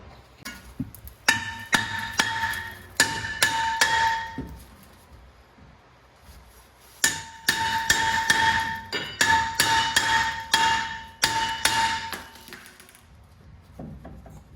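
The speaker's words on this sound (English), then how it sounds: "I'm tapping the plate for the face of the rotor to loosen any rust so I can pull this thing off" A hammer strikes a rusted brake rotor on a 2004-2008 Ford F150 Lariat Crew Cab, loud ringing metallic blows in two rapid bursts with a short pause between, close and alone.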